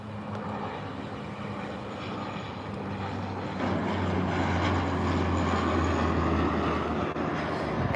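A plane passes at Calgary airport, a broad steady jet roar that swells and grows louder through the second half, heard alone at a moderate distance.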